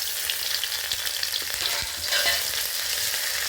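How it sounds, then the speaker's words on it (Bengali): Onion frying with ginger and garlic paste in a pan gives a steady, bright hiss of sizzling oil with occasional soft stirring scrapes and pops, close and continuous. "পেঁয়াজটা একটু খড়া করে ভেজে দেওয়া হবে"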